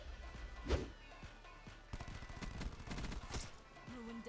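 Rapid automatic gunfire rattles in a Black Ops 4 match, with a sharp burst, a thud, and fainter shots and footsteps, all fairly quiet.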